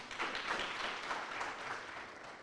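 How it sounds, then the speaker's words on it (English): An audience at a university student entrepreneurship programme launch gives a round of applause, a steady dense wash of many hands clapping at moderate loudness throughout, with no talk over it. "Can we give her a round of applause?"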